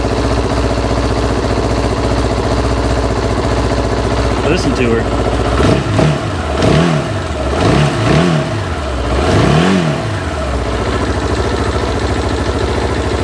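A 1989 Nissan D21 Hardbody Z24 pickup engine starts and settles into a steady idle, then revs up and down in four rising-and-falling pulls before easing back to idle. Someone speaks briefly over it.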